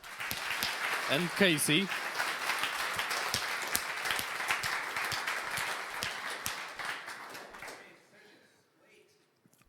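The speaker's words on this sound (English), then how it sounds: "Great, big applause, Sergiusz." Audience applause at a DigitalOcean tech meetup in Berlin, steady dense clapping from a crowd for about eight seconds before fading out, with a brief voice over it.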